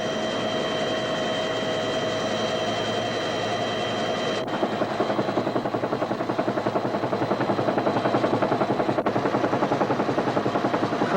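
Steady, loud helicopter rotor chop with a continuous engine whine, a battalion commander's helicopter over a 1969 Vietnam War combat mission, the rhythmic thumping growing slightly stronger toward the end.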